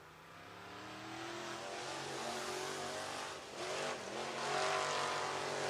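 Street stock race cars run laps on a track, their engines droning loud and close, building and easing as they pass, with revving surges and a brief dip between.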